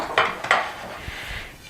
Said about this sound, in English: You simply take the blade of your knife and you run it around the sides of the pan just to loosen